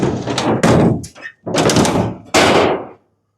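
Loose piece of metal clunking and sliding inside the gas tank of a 1969 Ford F100 pickup, several loud, close thuds and rattles in bursts with brief gaps, no talk.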